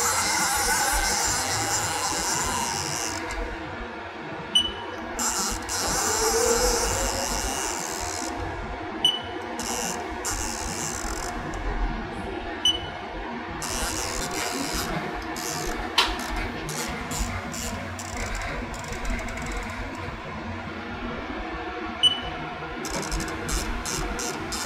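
A CNC milling machine table moves along its axes, a steady whirring motor drone with scattered brief clicks, loud and close.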